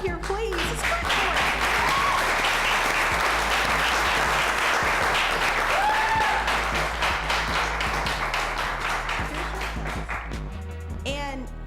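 An audience claps for a person invited up on stage at an encouragement event for students, steady loud applause lasting throughout, tapering slightly near the end, with some voices underneath.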